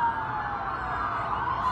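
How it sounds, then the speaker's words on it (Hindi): Ambulance and emergency vehicle sirens wail steadily from the street below a burning 51-storey tower in Dubai, a continuous tone that carries clearly at a moderate distance. "मेरे मौला ये गाड़ियां नीचे शोर मचा रही हैं"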